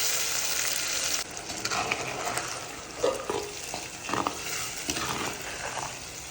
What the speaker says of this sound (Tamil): அரைச்சி வச்ச மசாலாவும் போட்டுக்கலாம்.